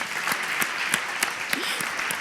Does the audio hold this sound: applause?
yes